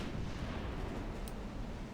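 Battleship guns fire in the naval video game Ultimate Admiral Dreadnoughts, heard as a faint, distant rumbling boom. The sound rolls on as low, muffled artillery thunder.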